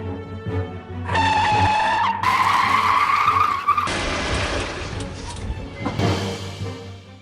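A car's tires squeal in a long, loud skid with a rising whine, engine noise beneath, as the vehicle slides to a halt on a road trip after running out of fuel.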